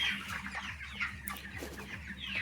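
Broiler chickens in a farm shed cluck and chirp together without letting up. The flock of some thousand 26-day-old birds, recovering from gout, makes a close, steady, crowded din with no one talking.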